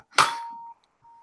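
A metal fork struck like a bell gives one sharp clink that rings on as a thin, pure sustained tone, fades, then briefly rings again faintly.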